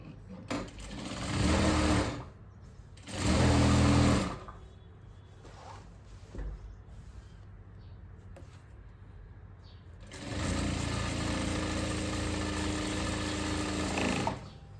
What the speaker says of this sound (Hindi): अब मैं आगे वाले पार्ट की भी सिलाई करूँगी।